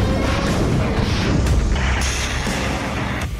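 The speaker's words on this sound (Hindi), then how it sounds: "पानी के अंदर से लैंड माइंस का धमाका इलाके को थर्रा रहा है" A deep, rumbling boom from a landmine exploding underwater in a flooded war zone, with a heavy crash-like roar, loud and close, trailing into a continuous low rumble.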